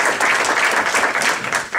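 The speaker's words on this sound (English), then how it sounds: "Please give him a round of applause." A live audience at a Martin Luther King Day community celebration in Central Falls bursts into steady, dense applause that fills the whole stretch without any break.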